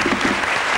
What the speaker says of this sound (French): Je vous demande d'applaudir nos humoristes.